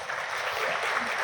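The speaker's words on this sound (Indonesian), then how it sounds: "tepuk tangan dulu sama Hopeng saya ini" An audience at a speech event applauds steadily throughout, a dense wash of clapping with no pauses.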